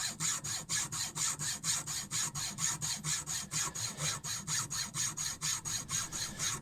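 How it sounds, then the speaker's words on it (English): A hacksaw cuts with a fast, even back-and-forth rhythm, about twenty-five strokes each giving a rasping scrape, close and steady with no talking. "With my trusty Poundland pipe pliers and my trusty Poundland hacksaw"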